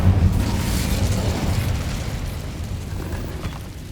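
A rumbling whoosh of the Incendio fire spell in Hogwarts Legacy, cast inside a mine: a strong low burst at the start that settles into a sustained roaring, crackling flame slowly fading over four seconds.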